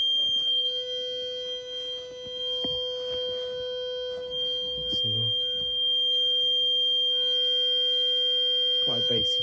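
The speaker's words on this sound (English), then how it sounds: "Quite a bassy system, bassy sounder." A Honeywell Galaxy 16 alarm system sounder holds a steady, loud, bassy electronic tone for the whole stretch, while faint voices and handling noises come and go underneath.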